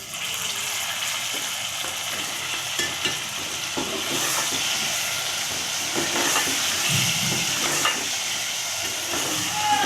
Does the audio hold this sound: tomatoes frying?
yes